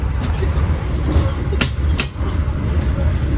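Interior of the KA Gajayana New Generation passenger train running between Malang and Yogyakarta: a loud steady rumble with a couple of sharp clicks from the wheels and rail joints, no voices.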